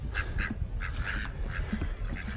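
Ducks by a pond quack in a string of repeated nasal calls, several voices overlapping over a low rumble of outdoor background noise.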